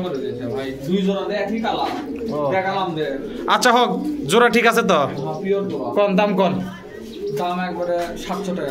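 Pigeons coo at a busy pigeon market in Bogura, Bangladesh, a soft low murmur running under close, continuous bargaining voices of several men.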